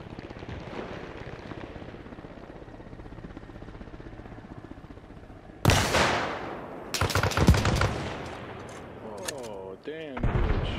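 Sharp, loud gunshots crack in a video game, with a sudden heavy blast and further bursts after a stretch of steady background rumble and a voice talking.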